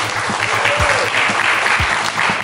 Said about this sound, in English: How about a round of applause for Suzuki?